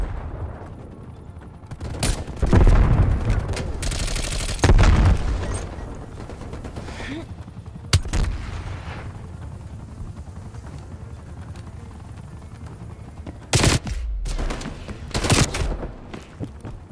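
Bursts of gunfire and heavy impacts in the video game Call of Duty: Black Ops Cold War during a VIP escort exfil, loud volleys separated by steadier mechanical rumble, with little talk.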